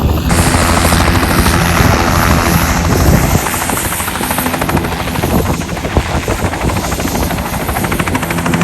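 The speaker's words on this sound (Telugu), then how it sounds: "సో ఇది మన వెళ్ళబోయే హెలికాప్టర్." Helicopter used for a no-doors sightseeing ride in New York, heard loud and close with a roaring engine and rapid, chopping rotor beat that stays constant for the whole stretch.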